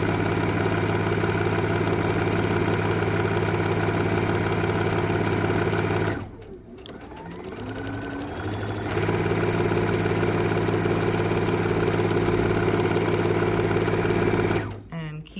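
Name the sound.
sewing machine stitching fabric for pot holders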